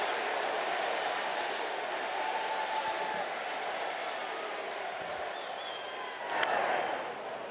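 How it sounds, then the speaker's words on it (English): A large stadium crowd cheers and roars loudly and continuously at a Dodgers vs Padres baseball game, with a brief swell of louder cheering near the end. "Quiet as the crowd has been is as loud as they are now"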